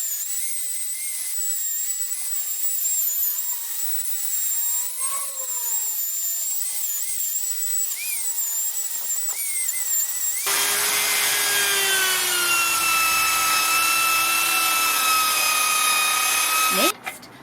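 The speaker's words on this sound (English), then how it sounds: "John removes the remaining rust and paint using a power drill with wire" A power drill fitted with a wire brush scrubs rust and paint off a 1975 Yamaha YB100 swingarm, a steady high-pitched whine and rasp throughout that grows louder and harsher partway through.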